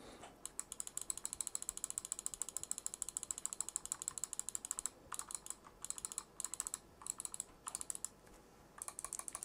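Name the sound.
left click button of MSI Clutch GM31 wireless gaming mouse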